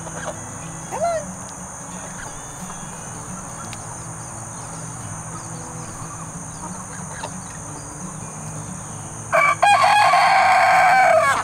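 Laying hens cluck and murmur at a distance on a homestead over a steady insect drone, then a burst of louder, close squawking and clucking near the end.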